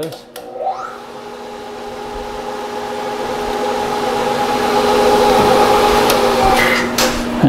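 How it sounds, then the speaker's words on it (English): Metal being center drilled in a machine shop gives a steady mechanical whir that slowly builds in pitch and loudness, continuous and close, with faint clicks near the end. "Just center drill this."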